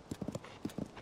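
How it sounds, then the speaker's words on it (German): Horse hooves clip-clopping in Zelda: Tears of the Kingdom, a quick run of separate hoof thuds in two short bursts, fairly close and alone. "wie zum Beispiel die Pferde"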